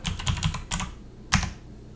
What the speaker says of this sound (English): So with all capital letters, I'm just going to type in bedroom.